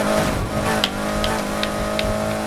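Car engine in the Need for Speed Heat racing game roaring steadily and loud with a sustained revving drone, short bright bursts marking a nitrous boost.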